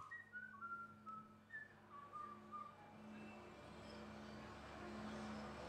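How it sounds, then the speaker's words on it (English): A person whistles a wandering melody in a subway, recorded as a sample, with a low steady hum and rumble of the underground space beneath the clear tune. "with a sample of an individual in the subway whistling"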